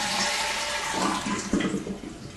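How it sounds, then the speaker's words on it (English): A household toilet flushes during a Fluidmaster fill valve installation. Water rushes close and loud and then gurgles down as the bowl drains. "I'm just going to flush the toilet"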